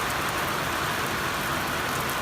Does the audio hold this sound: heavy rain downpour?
yes